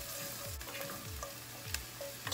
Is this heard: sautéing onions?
yes